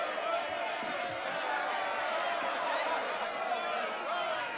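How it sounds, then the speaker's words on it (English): A crowd in Assassin's Creed Odyssey reacts with a steady, dense wash of overlapping voices and murmuring chatter that holds at an even level throughout. "Enjoy the crowd's reaction"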